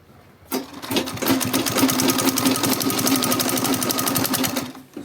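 Sewing machine top stitching a denim tote bag, a fast steady mechanical whir and needle chatter running for several seconds, close and alone before stopping.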